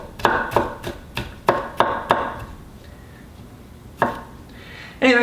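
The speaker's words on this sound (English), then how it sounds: "And then a cross cut on all your julienne, and you'll get some nice pepper kernels here." Knife cross-cutting julienned peppers on a cutting board: a run of sharp, close chops in an uneven rhythm, a brief pause, then a few more crisp strikes.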